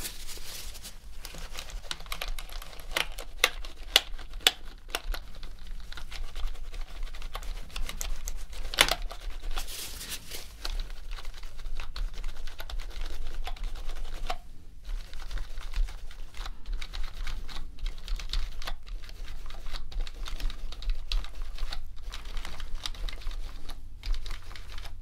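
Steady rapid clicking of a dirty computer keyboard being typed on during a professional deep clean, close and continuous with brief pauses, no talking.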